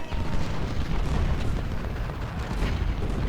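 Artillery battle in the Ultimate General: Civil War video game, with 10-pounder guns firing at enemy cannons: a loud, dense, continuous roar of booming cannon fire and rumbling blasts with no pauses.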